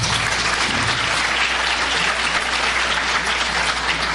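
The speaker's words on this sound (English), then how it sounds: "we are here to recognize our field hockey team, who this year, round of applause for them." A board of education meeting room fills with dense, uniform applause for a high school field hockey team, loud and continuous throughout with a low background hum beneath.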